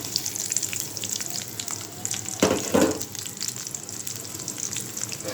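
Nigella seeds, onion and green chili frying in a pan for a Bengali chorchori, giving a steady close sizzle with a louder burst of crackle partway through as the ingredients hit the hot oil.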